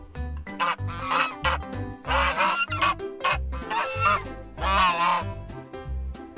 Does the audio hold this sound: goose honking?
yes